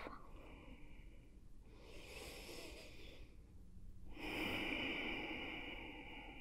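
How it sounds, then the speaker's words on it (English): Slow, deep yoga breaths come in long, airy inhales and exhales, quiet and close, with a fuller, louder breath near the end and no talking over them. "We'll take two more expansive breaths here, breathing into the back body, back of the ribs, back of your waistline, filling up."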